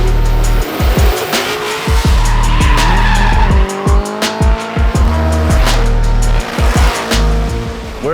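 Drift cars sliding up a closed section of canyon road at a touge event in Kentucky, engines revving and dropping as tires squeal and skid continuously, loud and close with no talk.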